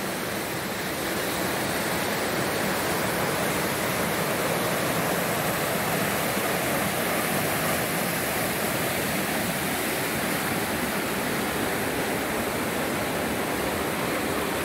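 Lower Bertha Falls pours in a steady, dense, unbroken rush of falling water, heard close and loud with no voices or other sounds over it.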